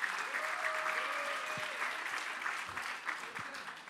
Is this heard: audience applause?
yes